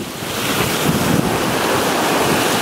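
Strong wind and breaking waves rush past a sailboat on an open-sea passage from Bonaire to San Blas in a 20 to 25 knot tailwind under genoa only, a loud, continuous roar with wind buffeting the microphone and no voices.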